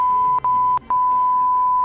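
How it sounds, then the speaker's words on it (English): A steady high-pitched censor beep tone runs nearly the whole time, broken by a few very short gaps. "Why do you keep beeping out my swear words?"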